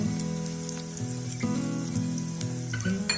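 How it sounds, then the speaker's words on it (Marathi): Green chillies, tomatoes and peanuts sauté in a pan for poha, with a soft, rain-like sizzle running steadily beneath tonal background music. "आणि शेंगदाणे हे सर्व टाकून चांगल्या प्रकारे परतून घेऊ"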